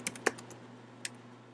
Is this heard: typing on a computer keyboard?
yes